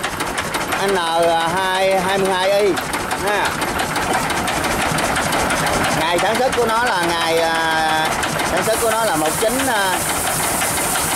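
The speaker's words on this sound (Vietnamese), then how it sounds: "rồi tiếp theo mình cùng xem cái Yamaha động cơ diesel" A 1955 Yamaha diesel engine rated at 20 to 23 horsepower runs at about 900 to 1,000 rpm, chugging and knocking loudly and steadily while someone talks over it.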